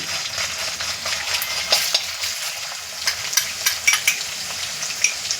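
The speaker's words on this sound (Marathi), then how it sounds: "तर मंडळी आता आपण हे वाटण जे आहे ते तेलामध्ये सोडणार आहोत" A paste of ginger, garlic, coriander and chili sizzles in hot oil for a shrimp curry, a steady bright crackle with a few sharper pops.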